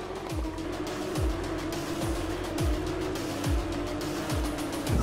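Porsche GT3 Cup race car at speed around Dubai Autodrome, a loud onboard engine howl with a steady rhythm of quick gear-shift drops roughly every second, no voices.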